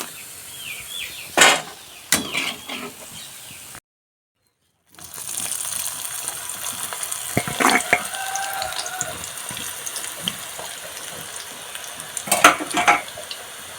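Meal maker (soya chunk) pakodi deep frying in oil, with a steady close sizzle and occasional stirring and utensil clatter, interrupted by a brief gap.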